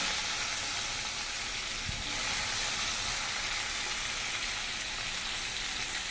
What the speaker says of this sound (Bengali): দিয়ে দিচ্ছি 2টো পেঁয়াজ, মানে মাছ অনেক তো